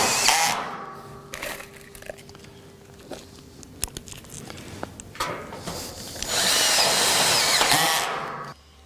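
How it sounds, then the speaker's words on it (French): A power drill drives self-drilling screws through a batten into a metal Terrassteel joist while a ceramic-tile terrace is built, giving short whirring bursts and a long loud final run up close. "la lambourde est fixée sur chaque solive, toujours pareil, avec les vis autoforeuses"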